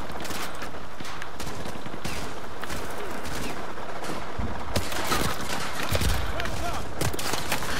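Dense, continuous gunfire and explosions from the Call of Duty: Modern Warfare 2 Remastered campaign mission Whiskey Hotel, a chaotic battle around the White House, with a voice briefly heard over the steady loud clatter.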